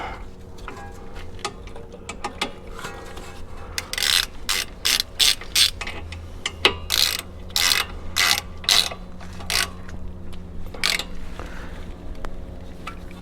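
A hand ratchet tightening brake bolts until snug, heard as bursts of rapid close-up clicking in quick back-and-forth strokes, separated by short pauses over a quiet background.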